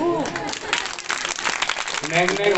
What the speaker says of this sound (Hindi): अब तो ताली बजा दो।